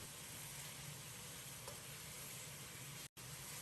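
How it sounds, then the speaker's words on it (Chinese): Pork stir-frying in a wok with scallion, ginger, dried chili and star anise, a steady soft sizzle and hiss throughout with a momentary dropout near the end. "在锅中煸炒1-2分钟，把肉的油炒出。"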